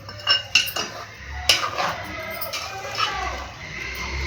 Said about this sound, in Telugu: మసాలా అందులో ఇంకా ఉంది ఆ గిన్నెలో, అది ఒకసారి గట్టించుకుంటూ మిక్సీ గిన్నె పోద్ది అలా కొడుతున్నాం